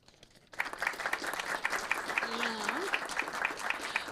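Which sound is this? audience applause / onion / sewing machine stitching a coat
audience applause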